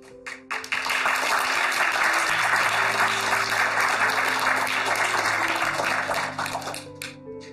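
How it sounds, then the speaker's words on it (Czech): A room of people applauds after Dana's speech, starting with a few scattered claps and swelling into full, sustained clapping that fades near the end, with low background tones underneath. "Když vezmu ten potlesk, který jste teďka Dano sklidila za tu vaši řeč"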